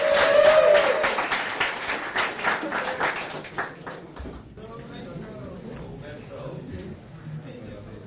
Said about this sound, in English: A big round of applause for Baptiste.